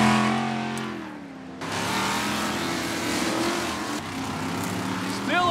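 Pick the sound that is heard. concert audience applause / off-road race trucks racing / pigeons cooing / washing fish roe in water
off-road race trucks racing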